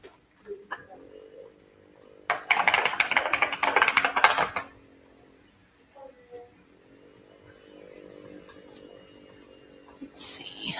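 Bursts of computer keyboard typing, a dense clatter of keystrokes lasting about two seconds, with a few isolated clicks and a low electronic hum around it.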